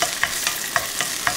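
King crab shells tossed in hot oil in a wok with scallion segments and ginger slices, a soft continuous sizzle punctuated by several sharp scraping stirs of the spatula against the pan, close and fairly quiet.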